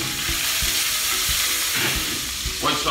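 Diced meat fries in butter and olive oil with rosemary and garlic, a close, steady hiss and crackle with a few scattered stirring clicks.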